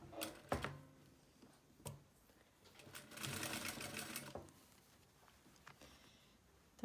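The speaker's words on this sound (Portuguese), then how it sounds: "Então, a gente ajeita, costura." A sewing machine stitches fabric for a toiletry bag, a steady close mechanical whir lasting about a second and a half, framed by clicks and handling noises before and after.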